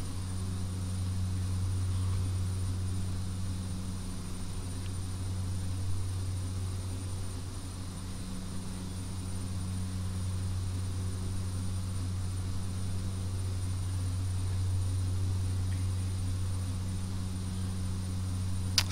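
Steady drone of a Q400 turboprop airliner's engines in flight, heard from inside the cabin as a constant low hum with a strong tonal band, continuous and unchanging.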